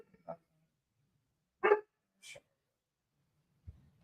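An agitated dog gives a few separate barks and yips, sharp single bursts with pauses between them in an otherwise quiet room.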